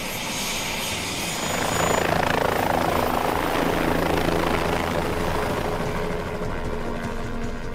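A helicopter flies near a volcano, its engine and rotors producing a steady, loud, whining roar that swells slightly midway and holds throughout with no voices.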